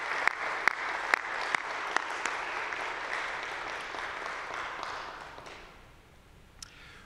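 An audience at a college convocation claps steadily in a hall, with a few sharp close claps standing out before the applause fades away over several seconds.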